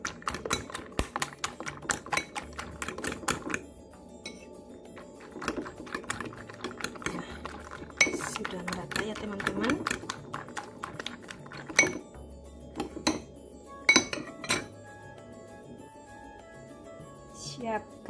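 Rapid clicking taps of a utensil whisking eggs with pepper and salt in a bowl come in bursts and pauses, close up, with a person talking at times.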